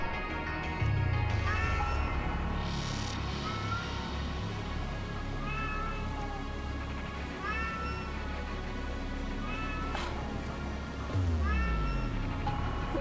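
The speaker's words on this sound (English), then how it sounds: "I heard a meow." A cat meows repeatedly in the action video game Astral Chain, with a string of clear, plaintive calls spread over a steady game soundtrack and ambient hum.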